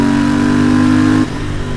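Royal Enfield Interceptor 650 motorcycle engine, close and loud, holding a steady climbing rev with a strong drone before dropping off abruptly near the end.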